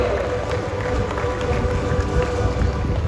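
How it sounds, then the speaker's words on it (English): Audience applause at a live bird show in Singapore, a dense, steady patter of many hands clapping with some crowd noise, moderately loud. "Let's give Nelson another round of applause"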